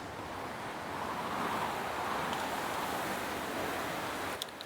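Steady, broad wind roar in a video game, blowing continuously with no pauses, fairly loud and close, with no voices.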